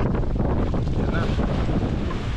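Strong wind roars steadily across a microphone on a boat at sea on a rough, choppy morning, with constant buffeting gusts and the wash of waves underneath and no clear speech.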